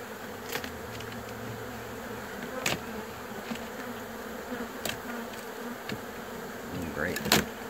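Honey bees disturbed during a removal from the walls of a 120-year-old house in St. Martinville, Louisiana, a steady low buzzing drone that stays under the scene with scattered sharper knocks and rustles.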